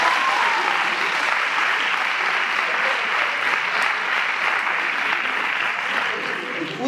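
An audience at a musical in Sant Martí applauds steadily and loudly throughout, a dense, continuous clapping with a faint murmur of the crowd underneath.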